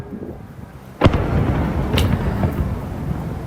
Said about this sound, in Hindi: ये एक जोरदार धमाका हुआ है।